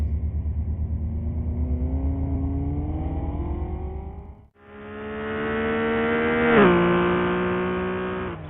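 A fast car on an Oahu road revs hard through its gears, a strong engine drone climbing in pitch, a brief gap at a shift, then renewed acceleration with a sharp rise and tire-squeal-like peak.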